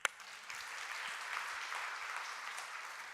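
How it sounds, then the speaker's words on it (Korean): A congregation claps at a Friday worship service in a Korean church. The applause is soft and steady, fairly distant, and lasts a few seconds with little voice over it. "우리 하나님께 박수"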